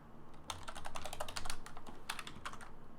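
Rapid, irregular clicks of a computer keyboard being typed on, steady and fairly close, coming in bursts with short pauses and no voices.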